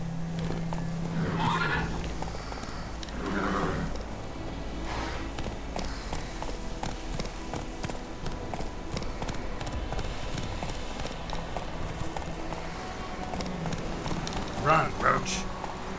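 Roach, Geralt's horse in The Witcher 3: Wild Hunt, gallops with rapid, continuous hoofbeats mixed with game music and ambience, with a neigh near the start and someone talking at times.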